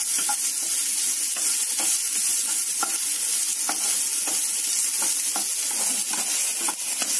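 Onion frying in a pan for veg manchurian gives a loud, constant hiss of oil, broken by a steady run of spatula scrapes and stirs close by.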